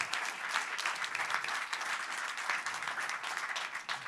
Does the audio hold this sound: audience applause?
yes